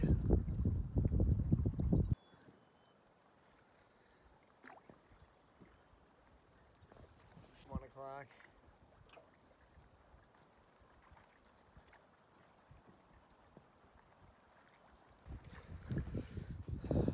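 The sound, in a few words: wind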